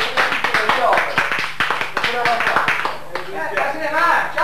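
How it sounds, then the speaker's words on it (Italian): A studio audience claps on a 1989 Italian TV couples game show, with rhythmic hand claps running steadily under a voice that talks over them throughout. "Facciamo un applauso."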